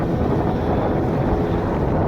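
Boat carrying ten or eleven people moves across the sea near Goa, giving a loud, steady rumble of motor and water rush with heavy wind buffeting the microphone and no talk.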